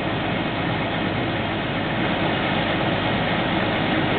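Steady hydraulic whine and engine drone from a Superline recovery unit, continuous and fairly loud throughout with no pauses and no voices.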